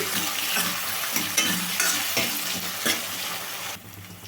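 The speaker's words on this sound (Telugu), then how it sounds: "ఉల్లిపాయ కొంచెం సాల్ట్ చాలా ఫాస్ట్గా వేగుతుందండి బాగా వేగాలి" Onions with a little salt fry in a pan, giving a dense continuous sizzle with a few stirring scrapes, close and fairly loud, then easing off near the end.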